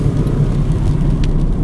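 Vauxhall Astra Estate 1.6 LPG dual-fuel engine pulling steadily in second gear, a loud low drone with road rumble heard from inside the car, without talk.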